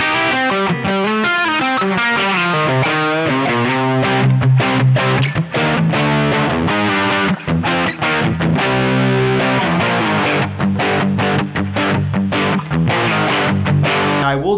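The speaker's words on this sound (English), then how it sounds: "Gives you a great distortion and overdrive sound" An electric guitar played through a distortion and overdrive pedal, dense saturated chords and riffs ringing loud and continuous, alone without any voices.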